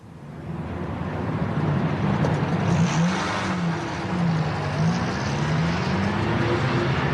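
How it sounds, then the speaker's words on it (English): A car engine revs and pulls away, building to a steady drone with shifting pitch as it departs, a staged vehicle effect in an old radio drama with no voices over it. "There goes the leader's car."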